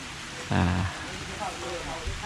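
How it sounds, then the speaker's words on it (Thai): Heavy rain falls steadily outdoors during a bird-trapping session, a constant broad hiss throughout, with a voice briefly speaking over it. "ฝนครับ มาแล้วครับ แรงแล้วด้วยครับ"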